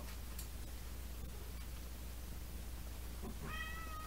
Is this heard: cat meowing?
yes